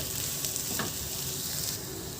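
Spices, chilli powder, coriander powder and salt, are stirred in a hot frying pan, with a steady, close sizzle of frying throughout and a few light scraping strokes of the spoon against the pan.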